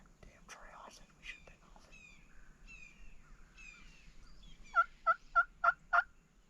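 Wild turkey longbeards in the Mississippi afternoon sound off with a run of five sharp, evenly spaced calls near the end, after faint birdsong and some quiet whispering nearby.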